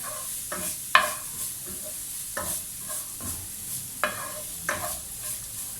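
Grated coconut is dry-roasted in a pan, with repeated scraping strokes of a spatula stirring it over a soft, faint sizzle, the strokes coming at an uneven rhythm close by.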